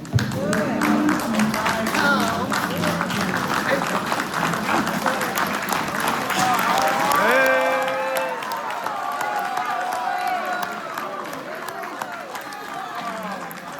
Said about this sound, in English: So I want y'all to stand up with me and applaud my bride of 43 years, Brenda.